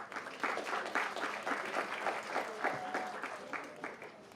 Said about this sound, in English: please give me a round of applause for Dr. Sauls.